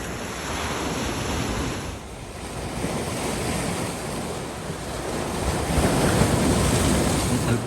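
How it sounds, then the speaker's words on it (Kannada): Sea waves roll and crash on Maravanthe beach in Kundapura, a continuous loud surf with gusts of wind buffeting the microphone and a swell of breaking water toward the end. "ಈ ಬೀಚು ಕುಂದಾಪುರದಲ್ಲಿರೋ ಮರವಂತೆ ಬೀಚು"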